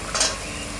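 French beans, carrot and capsicum stir-fried with a green mint paste for soya pudina pulao give one brief close sizzling stir, a single soft scrape over steady frying hiss.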